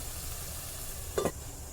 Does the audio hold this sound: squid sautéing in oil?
yes